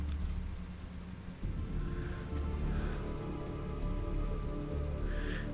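Steady rain in the survival video game Sheltered, a dense even hiss of drops on surfaces that stays loud and unbroken from start to finish, with no voices.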